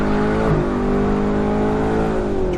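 Lamborghini Countach replica launching hard from a standstill with poor traction, a loud, close engine roar climbing steadily in pitch with a brief shift-like dip.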